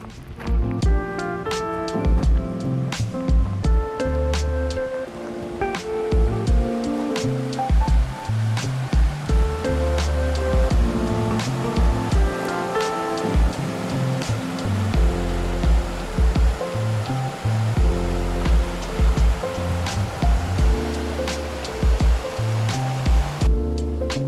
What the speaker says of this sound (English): I like seeing it and hearing the water